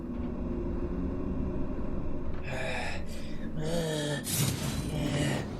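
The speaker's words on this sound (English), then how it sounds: "Hear creepy breathing." Creepy breathing in the Shadow of Mordor video game, a few drawn-out, raspy breaths near the end over a low, steady game ambience.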